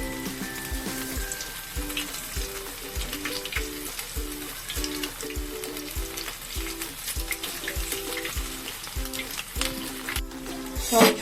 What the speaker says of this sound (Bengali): এবার সয়াবিনগুলোকে ভেজে নেব